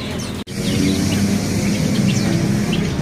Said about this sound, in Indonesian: Untuk kutilang sutra juga ready.